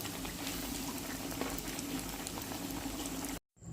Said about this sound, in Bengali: তো এবার তেল গরম হয়ে গেছে, দিয়ে দেবো, দুটো দুটো করে ভেজে নেব।